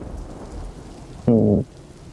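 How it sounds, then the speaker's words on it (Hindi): Heavy rain with thunder: a low, steady rain wash, interrupted by a short, loud tonal burst near the end before the rain carries on. "आज बारिश बड़ी तेज हो रही है ना।"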